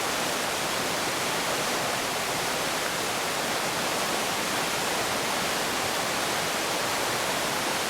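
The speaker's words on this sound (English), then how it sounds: "I see the creek slowed down a little bit. Now it's picking up." Creek water at Minnehaha Falls park flows in a steady, dense hiss and rush that never lets up, close by and with no voices.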